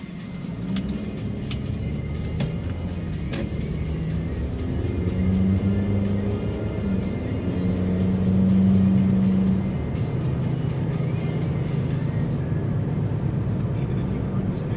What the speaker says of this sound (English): Nice car.